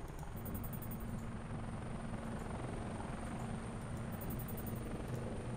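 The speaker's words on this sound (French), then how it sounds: "on va prendre notre hélico et on va l'emmener là-bas" A helicopter flies in the PC game Global Outbreak Doomsday Edition, its steady rotor and engine drone holding constant and fairly faint throughout with no talk.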